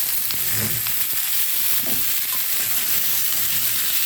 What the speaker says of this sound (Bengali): এখন এই যে কাটা আলুগুলো দিয়ে দিলাম